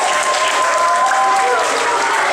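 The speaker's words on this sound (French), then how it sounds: "On l'applaudit très fort." Audience applause at a school spelling contest after a contestant is eliminated, loud and dense throughout.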